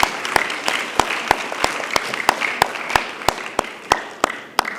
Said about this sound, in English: Yes, let's clap for them as well.